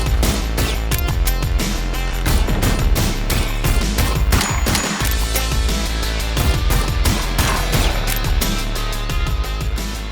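Rapid rhythmic gunfire from the roguelike rhythm first-person shooter Bullets Per Minute, with loud shots and booms landing in time over a driving, heavy music soundtrack.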